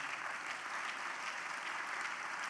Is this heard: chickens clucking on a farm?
no